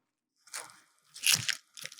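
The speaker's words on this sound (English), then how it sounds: "It still has that crunch to it. You can hear that." Crispy cooked enchilada filling for Sonoran enchiladas gives three sharp, close crunches in quick succession, each a short bright burst separated by silence, with no talking.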